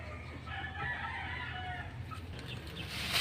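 Chickens cluck and a rooster crows inside a roomy coop with a tin roof, the calls fairly near and steady over a low background hum.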